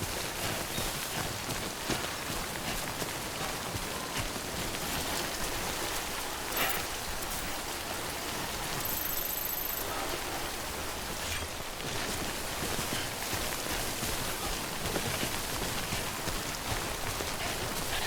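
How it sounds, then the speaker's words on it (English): Steady timefall rain pours down in Death Stranding, a dense, unbroken hiss of drops spattering on surfaces that stays loud and constant throughout. "Don't stay out in the rain any longer than you have to."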